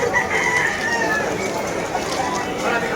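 A rooster crows over a steady din of chickens and general crowd noise at the Malabon pet market in the Philippines, with people talking in the background.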